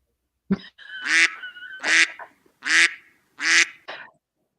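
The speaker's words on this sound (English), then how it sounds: "The duck agrees." A duck gives a run of five loud, close, nasal quacks, each separated by a short pause, with silence between calls and no other sounds.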